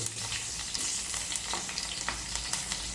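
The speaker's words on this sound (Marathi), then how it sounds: "तेल गरम झालं आहे जिरं घालू थोडं मिरची घालून घेऊ" Cumin seeds and green chilies sizzle in hot oil in a pan, a loud, continuous crackling hiss with sharp pops scattered throughout, close and uninterrupted, with no voices.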